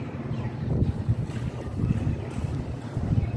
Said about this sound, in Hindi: तो बड़ी तेज़ हवा चल रही है ईद के दूसरे दिन भी